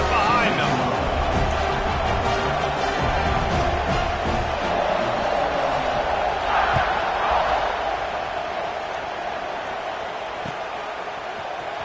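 A stadium crowd in the College Football 26 video game roars steadily as a dense, sustained wash of noise, with an announcer's voice running over it.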